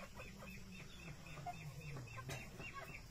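Darag chickens in a brooder cluck and chirp softly in short, irregular bursts, faint and fairly distant, over a low steady background hum.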